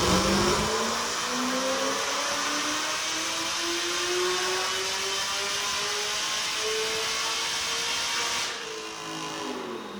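An LSA V8 running on methanol revs hard on a dyno, a loud sustained roar whose pitch climbs steadily toward a 7,100 rpm limit before cutting back near the end.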